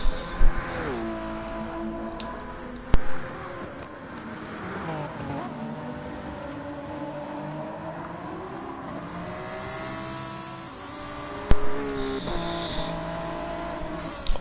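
Hypercar racing engines at a WEC race at Lago Maggiore in a racing game, a close high-pitched whine that rises and falls with gear shifts and revving, with thumps and brief bursts of other cars passing.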